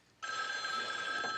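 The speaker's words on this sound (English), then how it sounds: "Leave that phone alone, Ed." An old telephone bell starts abruptly and rings continuously, a bright, buzzing metallic trill sustained at steady loudness in a domestic sitcom scene.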